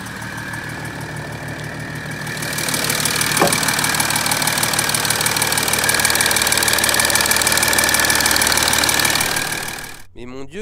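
Idling Audi 3.0 TDI diesel engine with a known fault, a steady mechanical rumble carrying a fast, regular ticking, heard close up and fairly loud until it cuts off near the end.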